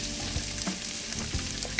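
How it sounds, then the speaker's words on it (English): Leeks frying in melted butter in a fry pan, a steady close sizzle with a few soft stirring knocks, heard alone without talk. "I've just melted the butter for the fry pan. Time for the leeks to go in."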